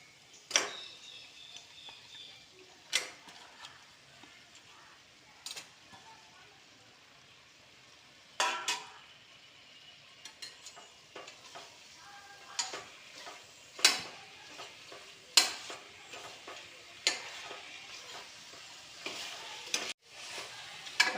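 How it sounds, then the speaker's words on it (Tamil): Mutton fries in a pot for mutton kuzhambu, a quiet continuous sizzle punctuated by periodic sharp scrapes and clacks of a spoon stirring against the metal. "மட்டன் சேர்க்குறேன்."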